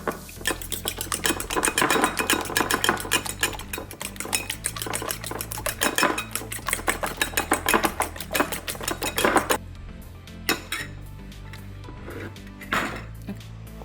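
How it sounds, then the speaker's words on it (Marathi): Eggs are whisked briskly in a bowl for crab soup, a rapid, loud clatter of metal beating against the bowl that runs steadily, then slows to scattered strokes near the end. "आणि ही अंडी मी फेटून घेणार आहे."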